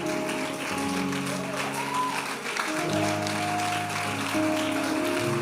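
Church congregation applauding steadily throughout a worship service, a dense wash of clapping mixed with singing voices and music underneath.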